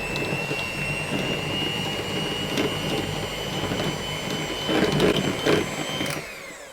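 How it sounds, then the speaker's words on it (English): Electric mixer beaters whir steadily through mascarpone in a bowl, a continuous high motor whine with scraping bursts against the bowl, growing rougher toward the end before cutting off. "Just going to use that same beaters to get in there and cream this up a bit."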